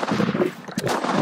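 A single rifle shot booms during a Kalahari lion hunt outdoors, a loud sharp crack with a short rolling echo, heard alone within about a second.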